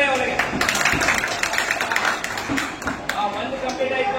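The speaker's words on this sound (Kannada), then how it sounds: "ಚಪ್ಪಾಳೆ ಅವರಿಗೆ." Applause for a student who solved a puzzle at a science centre, a short spatter of hand clapping from a group, moderately loud, mixed with people talking over it.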